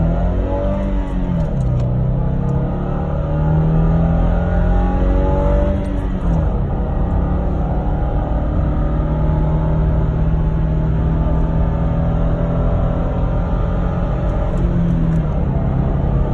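A 2018 Subaru Impreza accelerates from inside the cabin, its engine note climbing in pitch through gear changes with a brief dip around each shift, a loud steady rumble throughout.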